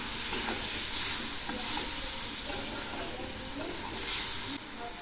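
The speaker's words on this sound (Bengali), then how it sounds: "এখন আমি এর মধ্যে দিচ্ছি তেঁতুল ভেজানো জল।" Tamarind-soaked water poured into a hot pan of pineapple chutney, giving a steady loud sizzle and hiss with bursts of steam and stirring, close up and continuous for a few seconds.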